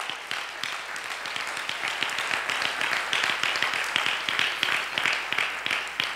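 A church congregation breaks into dense, sustained applause, many hands clapping steadily and evenly at a fairly close distance for the whole stretch, with no voices on top.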